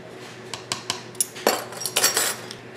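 A fork clinks and scrapes against a bowl while mixing dry biscuit dough ingredients such as flour, baking powder and cream of tartar. The close, irregular metallic taps quicken into a busier scraping flurry near the end.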